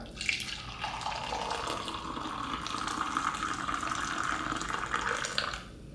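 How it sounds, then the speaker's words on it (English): Hot masala chai poured into a cup, a steady continuous liquid stream running for several seconds, close and moderately loud with no talking. "Go ahead and pour in our chai."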